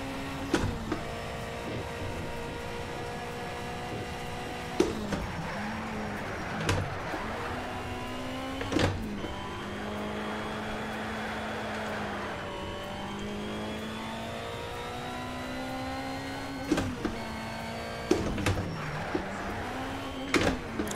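A car engine in the Need for Speed Shift racing game revs hard through repeated gear changes, its pitch climbing toward the rev limiter and dropping with each shift, loud and continuous with brief clicks.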